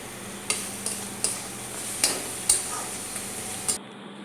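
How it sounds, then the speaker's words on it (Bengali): Cumin-powder spice masala being fried down in a pan for a soya chaap gravy: a low steady sizzle with several sharp scraping or tapping strokes of a spoon spaced about every half second, close and moderately loud, with no talking. "আরও কিছুটা জিরে গুঁড়ো দিয়ে ভালোভাবে কষিয়ে নিচ্ছি।"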